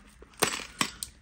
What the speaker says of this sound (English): Little plastic coins in there.